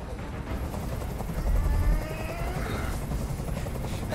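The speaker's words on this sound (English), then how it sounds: "Tell that helicopter to get out of here." A helicopter in the video game Detroit Become Human hovers nearby, its steady low rotor thump droning loud and continuous, swelling briefly in the middle, with no speech.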